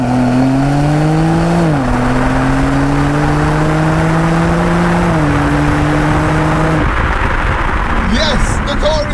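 A BMW X4M Competition with a twin-turbo straight-six accelerating hard on kickdown, its loud engine tone climbing steadily through several rapid upshifts before the throttle lifts and road and wind noise take over.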